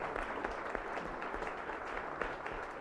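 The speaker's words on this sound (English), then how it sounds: "Let's give him a round of applause" Sustained audience applause at a talk-show style event, dense steady clapping from a crowd at moderate distance throughout, with no voices standing out.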